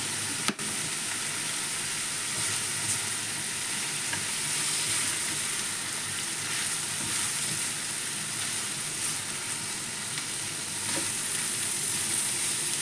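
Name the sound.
green beans and minced pork stir-frying in pan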